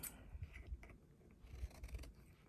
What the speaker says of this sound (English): So, what I could just do is take my scissors.